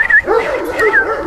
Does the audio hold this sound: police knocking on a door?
no